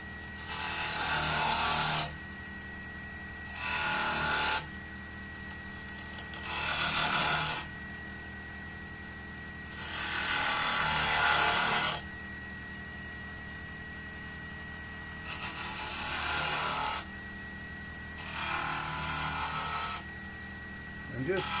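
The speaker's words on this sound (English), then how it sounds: "And now we can use our spindle gouge again." Spindle gouge cutting a wooden workpiece spinning on a lathe, repeated rasping bursts of a few seconds each over a steady motor hum, close and loud, with pauses between passes.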